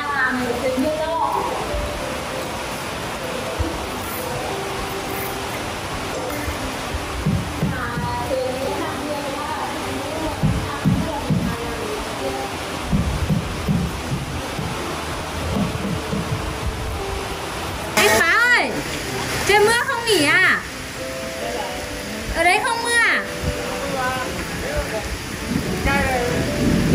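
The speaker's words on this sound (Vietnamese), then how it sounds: "Mà con về hộ đông đông này đang làm thì mưa to." Heavy rain falls steadily on a rural house-building site in a village, a broad constant wash of noise throughout, with people talking over it at times.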